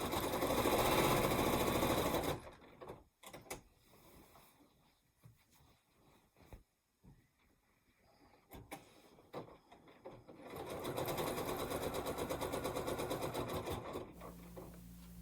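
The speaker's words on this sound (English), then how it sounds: "So I finally decided to put a walking foot on my piecing machine, and I'm going to finish this quilt using that machine." A home piecing machine fitted with a walking foot quilts a layered quilt, running in steady mechanical bursts at the start and end with a quieter pause of faint handling noises between.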